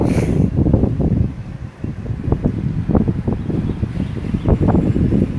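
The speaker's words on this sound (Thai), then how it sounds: "ฟังจากเสียงลมเนี่ย เคลื่อนตัวเร็วมากเลย" Strong gusts from an approaching rainstorm buffet the microphone, giving a loud, rough, low roar that surges and dips in uneven pulses throughout, with no talking.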